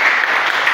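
Brief, loud burst of continuous clapping from a class audience after a student presentation in Indonesia, a dense even wash of applause.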